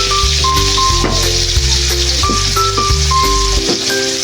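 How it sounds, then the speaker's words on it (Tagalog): Potatoes and carrots for pork afritada hit hot oil and sizzle with a continuous bright hiss, heard close and loud under a backdrop of tonal music. "pag mainit na yung mantika guys is ilalagay na natin tong patatas at carrots"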